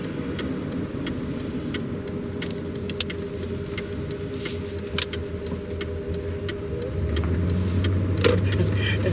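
Car driving at night, a steady low engine hum with faint ticking clicks throughout, growing slightly louder toward the end; no talking.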